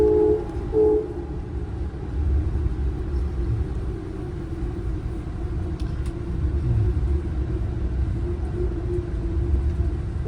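Amtrak Regional passenger train heading from New York toward Washington DC, rumbling along the rails with a low, continuous roll, a steady mid-pitched hum running under it, and a few faint clicks and thumps from the track.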